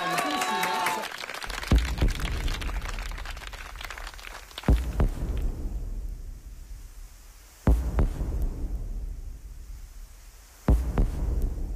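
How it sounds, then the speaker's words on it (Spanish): Audience applause on a Peruvian senior singing talent show's blind audition stage, a brief clapping swell under a loud, throbbing musical backing with sharp repeated beats. "Vamos a darle un aplauso."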